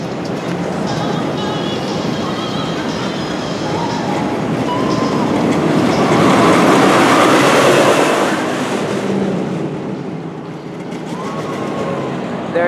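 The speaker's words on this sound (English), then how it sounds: "I'm going to end out this video by showing you Shockwave's main drop" The Shockwave roller coaster at Kings Dominion takes its main drop: a loud, rumbling roar of the train on the track swells to a peak midway, then fades and settles back down.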